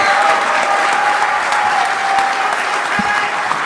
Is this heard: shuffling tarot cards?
no